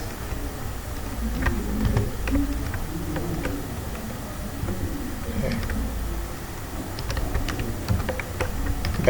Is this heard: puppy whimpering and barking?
no